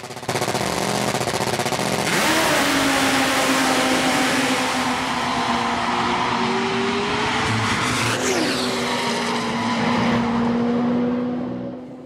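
Nitro drag racing car Nitro Voodoo at Sydney launching down the strip, a loud, close engine roar climbing in pitch, a sharp gear change to second a few seconds in, then a sustained scream fading at the end.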